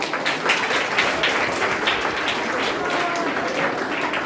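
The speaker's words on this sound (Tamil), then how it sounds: "நல்ல கைத்தட்ட கொடுங்க." Audience applause at a school debate event celebrating Kamaraj's birthday, a steady dense wash of clapping that holds evenly for several seconds with no pauses.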